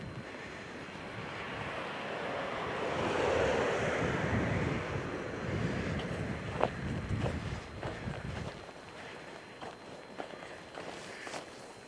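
Cold wind rushes and buffets outdoors with broad, steady noise that swells in the middle, while footsteps crunch close by throughout and grow more distinct toward the end.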